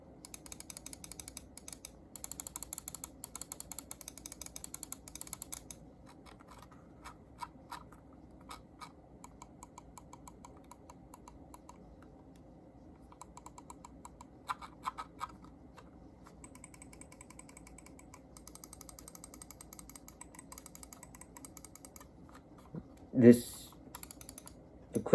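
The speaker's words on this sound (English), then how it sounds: "I guess I could give you guys a quick sound test on all the clicks" Logitech G305 and G703 gaming mice clicked over and over, a close, crisp run of light, rapid clicks in bursts, with a brief louder sound near the end.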